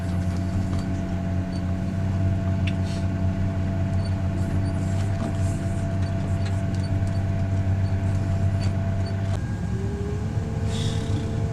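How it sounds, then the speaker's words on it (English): A truck engine hums steadily at a loading yard where forklifts stack plastic-wrapped boxes, a continuous low drone that shifts near the end as the truck pulls away, with no talking. "He is getting in the other truck and he's about to take off to get the last load"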